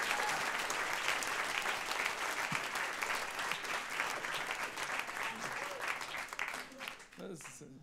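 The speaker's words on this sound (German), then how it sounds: "Mach mal einen fetten Applaus für Dustin und Franzi." Comedy club audience in Berlin breaks into sustained applause and whooping, a full crowd clapping evenly before the noise thins and a voice starts talking over the fading claps at the end.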